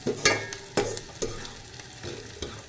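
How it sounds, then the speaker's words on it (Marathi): Coriander is stirred into softened fried onions for vermicelli upma, a spatula scraping the pan in a few distinct strokes over a gentle sizzle, close and unaccompanied by speech. "आता मी थोडीशी टाकते त्याच्यामध्ये कोथिंबीर कोथिंबीर छान मिक्स झाली"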